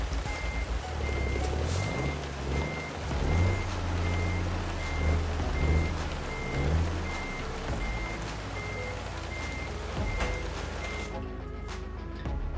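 Truck in American Truck Simulator reversing to couple a trailer, its steady reverse-warning beeps repeating evenly over a rumbling diesel engine, with a brief air-brake hiss near the end.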